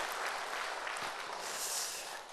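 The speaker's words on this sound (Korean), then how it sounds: "우리 다시 한번 크게 박수로 환영해 주시면 감사하겠습니다" Audience applause welcoming a speaker at a church lecture, a dense steady clapping that fills the whole stretch and tapers slightly at the end.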